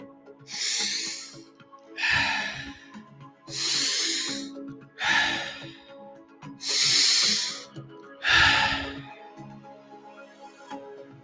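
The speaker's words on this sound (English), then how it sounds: "A nice, slow breath." Slow, deep breathwork breaths, six long airy inhales and exhales in an even rhythm, close and loud in a quiet room with no talking.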